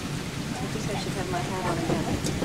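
Rain falls steadily in a mangrove forest, a dense even hiss of drops on leaves and water, with people talking faintly underneath throughout.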